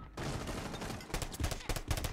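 Gunfire in the Rainbow Six Siege video game: rapid bursts of shots, sounding as a sustained rattle and then a series of sharp separate reports, fairly close, with no talk over it.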